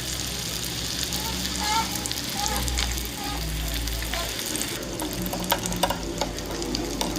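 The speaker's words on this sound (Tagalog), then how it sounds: "Ito na guys, oh, prito ko na." Bean sprout spring rolls (lumpiang togue) frying in hot oil make a steady, close crackling sizzle that runs throughout, with a few brief handling clatters.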